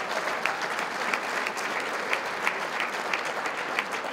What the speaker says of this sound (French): ça prendra une bonne main d'applaudissement